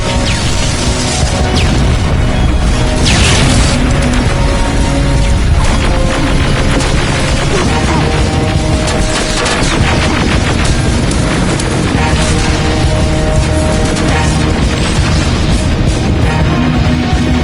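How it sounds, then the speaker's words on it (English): Gunfire and explosions from the Terminator: Resistance video game, with loud, continuous booming blasts and crashes running densely throughout, while bursts of shouting voices come through the battle noise. "Suppressive fire!"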